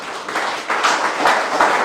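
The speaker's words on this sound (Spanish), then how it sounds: "Un aplauso al Señor." Church congregation applauding at an evening service, a steady wash of many hands clapping in swells that stays moderately loud across the short stretch, with no voices over it.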